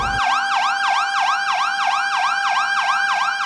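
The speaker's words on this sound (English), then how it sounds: "The Bureau of Fire Protection blared their siren as his remains were brought to the family mausoleum" A Bureau of Fire Protection fire truck siren blares during a funeral procession to a family mausoleum, a loud, close, continuous wail that sweeps rapidly up and down in a steady repeating yelp pattern.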